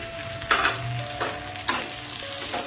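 Ginger garlic paste sizzling in hot oil with browned onions for a fish curry, a continuous crackling fry with several sharp spatula scrapes, close by, no speech.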